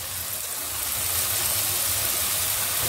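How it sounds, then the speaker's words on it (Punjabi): Pakoras frying in hot oil, giving a steady, close hiss of bubbling oil that holds even throughout with no voices. "ਆਪਾਂ ਪਕੌੜੀਆਂ ਜਿਹੜੀਆਂ ਕਰਦੇ ਹਾਂ ਪਹਿਲਾਂ ਫਰਾਈ ਕਰ ਲਈਏ।"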